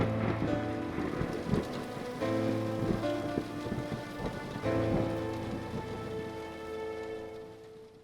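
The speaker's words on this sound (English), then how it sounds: "storms and hurricanes" Heavy rain pours steadily onto surfaces while thunder rumbles and rolls through the storm, loud and continuous with no voices.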